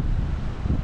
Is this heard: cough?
no